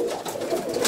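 Pigeons coo softly in low, rolling murmurs, several overlapping calls close by in a continuous burbling stream.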